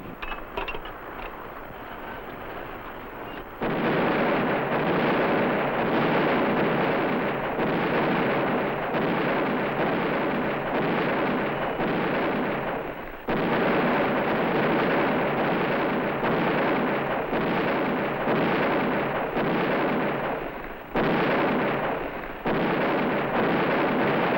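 Naval anti-aircraft guns firing from a ship at sea during an air defense drill, a sustained barrage of heavy booming reports layered into a continuous roar with brief pauses, loud and close.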